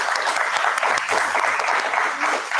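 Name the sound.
audience applause welcoming Pramod Varma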